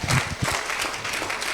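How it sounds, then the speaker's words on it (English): Audience applause at a 2020 academic training session, a dense wash of clapping hands that holds steady at moderate loudness for the full moment without a break. "Can we give him another round of applause?"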